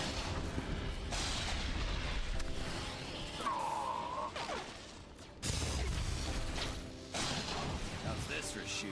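Gunfire in a Star Wars: The Old Republic ambush fight in the Dune Sea, with repeated blasts and bursts over a busy game soundscape and a voice talking through much of it.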